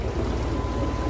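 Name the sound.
sailboat engine revving while motoring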